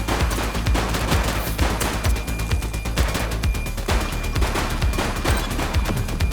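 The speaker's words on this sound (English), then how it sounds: "She's shooting!" Sustained heavy gunfire from a suspect in a police video game firefight, loud overlapping shots and bursts rattling nonstop with crashing impacts, no voices.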